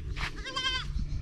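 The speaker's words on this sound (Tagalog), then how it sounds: "Sa kambing nila ni Lolita." A farm goat gives one close, wavering bleat lasting under a second, over a low rumble of background noise.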